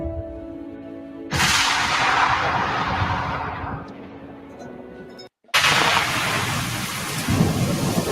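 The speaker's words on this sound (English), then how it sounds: "Storm is coming." A thunderstorm sound effect: a loud thunder crash breaks in and rumbles on over steady rain, cuts off briefly, then a second heavy burst of thunder and rain returns.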